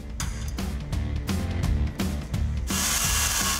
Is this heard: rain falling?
no